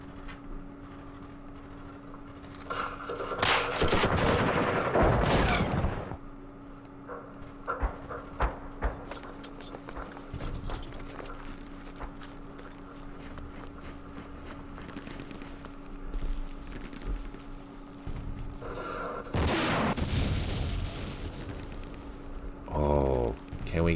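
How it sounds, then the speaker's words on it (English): Sustained bursts of machine gun fire in the Vietnam war strategy game Campaign Series Vietnam, loud rattling volleys around the start and again near the end, with a steady tone and clicks in between. "Freaking machine gun too."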